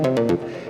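Serum synthesizer arpeggiated preset from an essential sounds collection, a bright pluck-like synth pattern with three quick accented notes followed by a decaying sustained tail, played alone.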